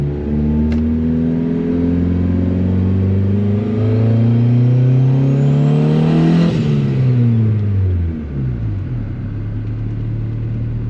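A turbocharged Honda Civic accelerates hard through second gear, its engine note climbing loud and steady for several seconds, then dropping sharply into a lower drone as revs fall, close and continuous with no talk.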